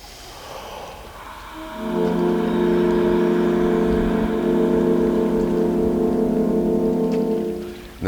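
Several horns hold one sustained chord together as a group, entering after a breath and swelling into a steady, even drone that lasts several seconds before fading, with no talking.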